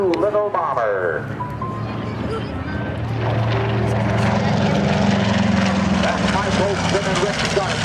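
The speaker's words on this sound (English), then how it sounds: "First in the B-25 special delivery, the Mitchell Doolittle bomber." A B-25 Mitchell WWII bomber, the Doolittle-type "Special Delivery", flies past at the Randolph AFB airshow with a swelling piston-engine roar that builds and holds, under continuous commentary from an announcer.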